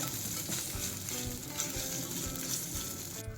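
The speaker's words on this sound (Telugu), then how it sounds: "ఇలా ఎర్రగా వేయించుకోవాలి అల్లం వేసాం కదా" Ginger frying in a pan with a pinch of asafoetida for a brinjal curd chutney tempering, a steady close dense sizzle with faint stirring, no voices.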